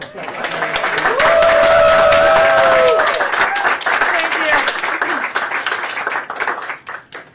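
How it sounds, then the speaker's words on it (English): Applause from an audience gathered for the opening of an 1887 copper time capsule from the Lee monument, swelling into steady clapping under crowd noise while someone speaks over it. "how about a round of applause for her?"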